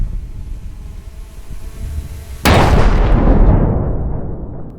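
An FPV kamikaze drone strikes a soldier on a battlefield, and a single sudden loud blast erupts after a quiet stretch of faint buzzing, then rumbles and slowly fades.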